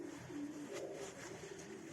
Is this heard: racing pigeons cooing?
yes